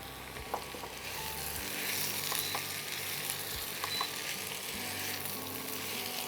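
Bottle gourd frying in a pan with spices stirred in, a dense continuous sizzle and hiss with faint scraping of a spoon against the pan, close and steady, no voices.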